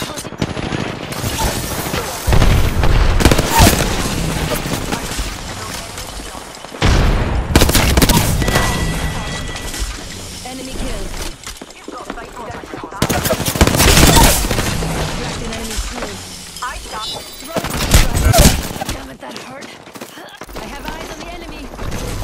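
Heavy automatic gunfire and explosive booms in an Apex Legends match, coming in loud repeated bursts separated by brief lulls, with a voice speaking over parts of the action.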